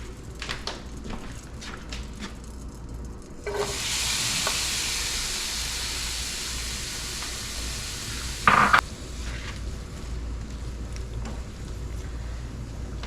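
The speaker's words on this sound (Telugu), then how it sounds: "మనం ఇప్పుడు పైనాపిల్ పీసెస్ కూడా వేయించుకుందాం." Pineapple pieces frying over low to medium heat in a pan while being made into kesari, a broad steady sizzle swelling up midway with a brief clatter of stirring, no voices.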